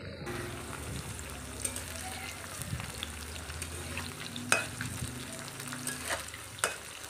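Food frying in a pan in a home kitchen, with a steady bubbling sizzle punctuated by a few sharp clinks and scraping knocks of utensils.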